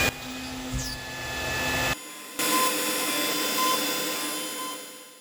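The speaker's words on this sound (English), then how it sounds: "I'll tell it to drill 4 holes at each of our labeled points." A high, steady machine whine with a spindle-like drone runs continuously as a CNC router drills holes in a circuit board, cutting out briefly before resuming just as loud.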